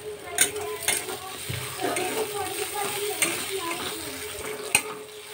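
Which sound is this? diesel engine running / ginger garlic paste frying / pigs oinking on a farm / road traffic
ginger garlic paste frying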